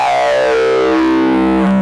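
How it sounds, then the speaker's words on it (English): A buzzy, distorted synthesizer tone through an Erica Black high-pass filter with distortion, sweeping so it thins and brightens as it glides, loud and sustained with no voices. "How about just the high pass distortion?"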